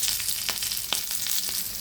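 Bitter gourd pieces fry in a pan of hot oil tempered with cumin, peanuts and curry leaves, giving a loud, steady sizzle with small crackles and no talk.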